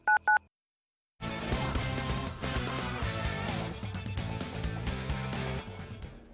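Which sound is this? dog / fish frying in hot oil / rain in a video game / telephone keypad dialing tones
telephone keypad dialing tones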